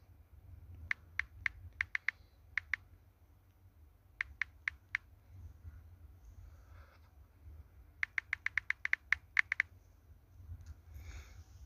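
Typing a username and password on a computer keyboard: three separate bursts of quick, crisp key clicks with short pauses between them, close up against a quiet background.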